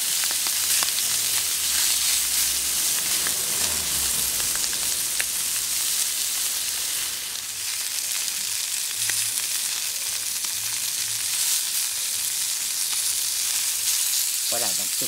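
Salmon and prawn skewers sizzle on a hot plancha with a steady, dense crackle that holds evenly throughout, close and fairly loud, with no talking.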